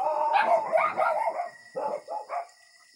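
Several thin, underfed dogs bark and yip at an old house, in a burst of overlapping barks followed by a few separate yelps, close and loud, with no speech.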